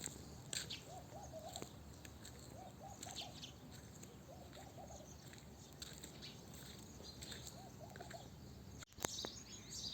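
Soft cooing bird calls repeat in short clusters, with scattered chirps over a steady hiss of background noise, fairly distant and faint.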